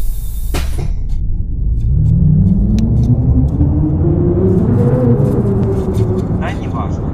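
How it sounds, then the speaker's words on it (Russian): Trolleybus in the video game Garry's Mod driving along, a steady low motor hum that rises in pitch as it speeds up, with a brief clatter early on, continuous and fairly loud throughout. "главное, что мы и на троллейбусе едем"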